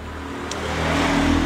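A motorcycle engine revs up and grows louder as it approaches, a steady broadband roar building over a second and a half.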